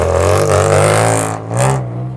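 A loud car engine revving hard nearby, a rough roaring drone that rises, dips and surges again.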